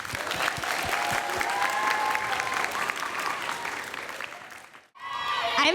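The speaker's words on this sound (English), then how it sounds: "let's give Sophia a round of applause." A school audience claps for a sixth-grade student at a coin-sorting machine science event, dense and sustained at first, then fading out before a fresh burst of clapping starts.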